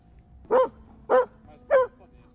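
Three loud, evenly spaced barks from a dog close by, each short and sharp with a quiet gap between, over faint background noise.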